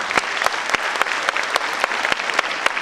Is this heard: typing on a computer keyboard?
no